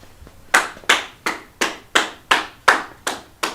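A group of people clapping their hands together in unison, nine loud sharp claps in a steady even rhythm after a brief quiet start.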